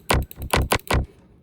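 Punchy future house bass synth preset from FL Studio, struck in four bright, buzzy hits with a short uneven rhythm and a quick fade at the end, heard alone.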